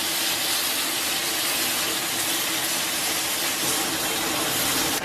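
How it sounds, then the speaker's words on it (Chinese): Meat-cooking broth gushes into a wok of stir-fried diced shiitake mushrooms and soy sauce: a loud, steady pour that holds evenly for several seconds with no voices. "咱们给锅里边来点这个煮肉的原汤，"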